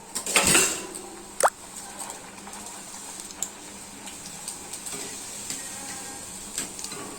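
Puri deep-frying in hot oil gives a soft steady sizzle with a few sharp clinks and stirs near the start, faint and close, no talking.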